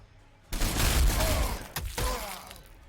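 Ork units opening fire in the strategy game Warhammer 40,000: Sanctus Reach: after a quiet start, a loud, heavy volley of overlapping shots and booms erupts and keeps rattling, with a second punch near the end.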